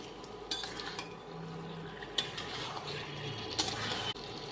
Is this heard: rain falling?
no